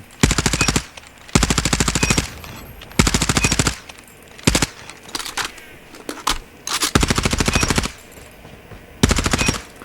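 Automatic SMG fire from the CBR4 in a ranked video game match, heard as loud, rapid bursts of varying length, several long sprays alternating with short volleys and brief pauses, with no talk.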